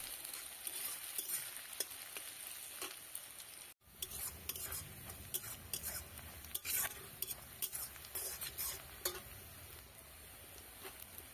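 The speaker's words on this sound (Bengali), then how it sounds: "পেঁয়াজটা একটু বেশ বাদামি বাদামি করে ভেজে নেব।" Onion frying in a pan while being stirred, a steady sizzle with repeated scraping and clinking of the spoon, close and alone.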